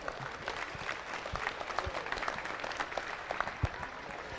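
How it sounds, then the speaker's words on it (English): Crowd at a junior beef steer show applauding the young exhibitors, a fairly quiet, somewhat distant spread of clapping with scattered sharper claps, sustained evenly over several seconds. "give these kids a huge round of applause"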